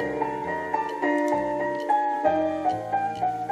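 Short stretch of tinny recorded music played from a repaired Sony WM-EX651 cassette Walkman, a plucked melody over a simple bass line, slightly muffled and lo-fi, steady throughout.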